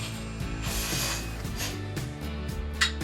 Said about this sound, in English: 35 millimeter removes the axle nut.